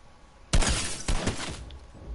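Gunfire in Fortnite's Horde Rush mode: a loud, sharp burst that rings on for about half a second, then a second crack that trails off into a fainter tail. No talking.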